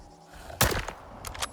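An underbarrel shotgun loaded with armor-piercing shells fires in STALKER 2, a single muffled blast followed a moment later by a couple of smaller rattling bursts, fairly quiet overall.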